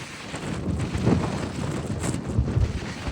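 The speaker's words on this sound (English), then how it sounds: "Very, very windy." Strong wind buffets the microphone on an exposed Colorado trail, a loud gusting rumble that swells around the middle and again near the end, with no speech.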